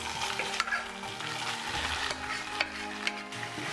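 Chicken with curry leaves being stir-fried in hot oil gives a loud, continuous sizzle, broken by a few scraping stirs of a spatula against the pan.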